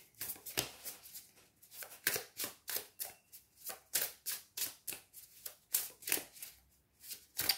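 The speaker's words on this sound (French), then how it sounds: "J'adore le bruit que fait ce jeu quand on le mélange." A Wild Unknown tarot deck is shuffled in quick repeated riffles, crisp papery bursts arriving in a steady rhythm of about two per second, close and fairly quiet with no talking.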